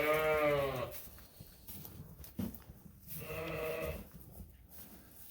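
Lambs bleating at night on a sheep farm during lambing, in pens: several loud, close, wavering bleats alone, with a shorter call partway through and fainter calls in the background.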